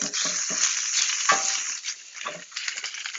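Savoy cabbage and butter sizzling in a pan, a close hissing fry broken by stirring scrapes and soft clatter, with no talk.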